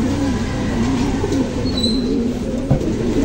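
Pigeons cooing in a repeated low rolling pattern, fairly close and steady, over a constant background hum with no talking.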